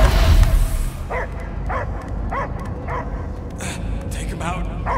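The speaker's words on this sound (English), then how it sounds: "I hear only barking." A dog barks repeatedly in the Guardians of the Galaxy video game, about six evenly spaced close barks over a low rumbling background, with voices in the scene.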